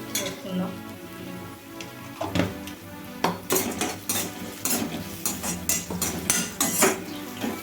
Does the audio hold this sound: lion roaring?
no